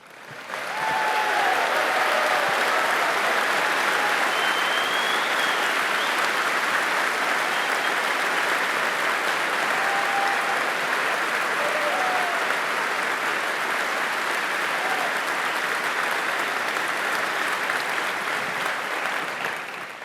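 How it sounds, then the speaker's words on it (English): Sustained audience applause filling a large Cisco Live keynote hall, steady and loud from start to finish with dense clapping and a few faint whistles. "you folks give them a big round of applause"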